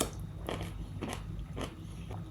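Cooked carrots from a home recipe crunch as they are bitten and chewed up close: four or five crisp, evenly spaced crunches over a quiet background, with no talking.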